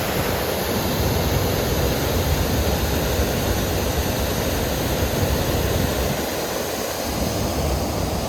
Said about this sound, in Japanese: これが瀬田の洗堰、琵琶湖の水をここから淀川方面に流してます。